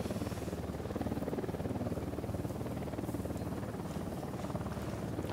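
A Unidad helicopter flying in Ghost Recon Wildlands, a faint, steady rotor chop with rhythmic thumping under a broad whooshing wash, continuous and at a distance.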